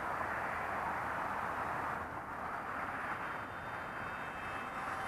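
Hobbyking Prime Jet Pro RC jet cruising at about a third throttle, a steady, faint hissing whine that holds evenly without breaks and no talk over it.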